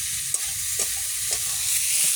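Fish roe frying in a pan, a steady close sizzle with a few soft clinks of a utensil stirring through it, no voices.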